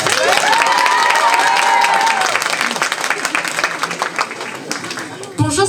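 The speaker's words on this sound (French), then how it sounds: "Et on continue les applaudissements pour la candidate numéro 5." Loud audience applause for candidate number 5 at the Miss Yonne 2024 pageant, a dense crowd of clapping with some cheering, tapering slightly toward the end, mixed with a presenter speaking and music.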